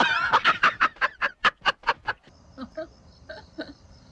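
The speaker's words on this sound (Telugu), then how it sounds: "బర్డ్స్ సౌండ్ ఎక్కువ వినిపిస్తున్నాయి" Birds calling during an evening walk in a Coorg coffee plantation: a quick run of loud, honking, goose-like calls, followed by softer, scattered calls against a quiet background.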